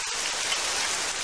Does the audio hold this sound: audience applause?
no